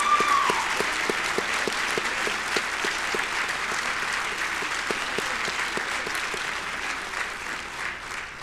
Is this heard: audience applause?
yes